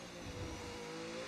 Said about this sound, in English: dump all the power, get up to 340 kilometers per hour.